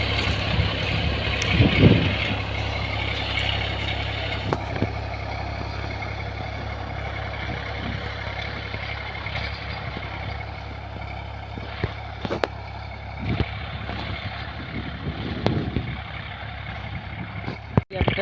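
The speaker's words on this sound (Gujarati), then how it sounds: "ટ્રેક્ટર લઈને આવી રહ્યા છે" A farm tractor's engine runs steadily nearby in an open field, a constant low rumbling drone with occasional knocks, and someone talks over it.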